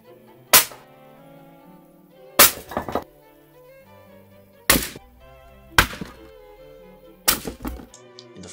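A 14 kg block dropped from 191 cm smashes down in five loud, separate heavy thuds with crunching impacts, spaced over several seconds against a quiet, faintly humming background.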